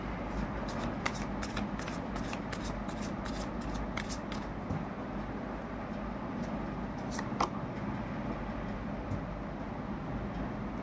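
Tarot cards are shuffled and drawn up close, with a steady riffling patter of card edges that slows into separate flicks and snaps, and no voices.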